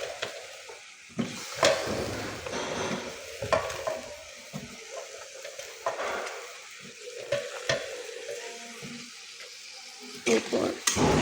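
Sweet pumpkin pieces are tipped into fried spices in a pan and stirred, giving a steady frying sizzle broken by repeated scraping, clattering stirs of the spoon against the pan.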